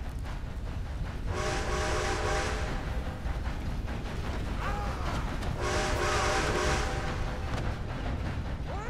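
Train in Red Dead Redemption 2 rumbling past with its horn sounding in two long blasts over the loud, steady roar and clatter of the cars.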